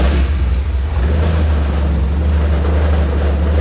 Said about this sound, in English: And then when I engage the brake, I can start the engine.